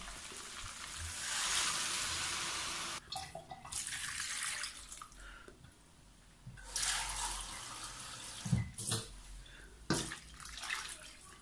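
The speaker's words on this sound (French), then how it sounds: "je vais laisser cuire ça en ajoutant de l'eau" Water is poured into a cooking pot holding dried tomato, producing a rushing pour in several bursts, loud and close, separated by quieter gaps and a few knocks.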